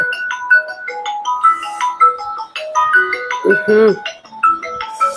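A mobile phone ringtone plays a bright, repeating melodic tune that keeps going, loud and close, with a voice speaking briefly over it.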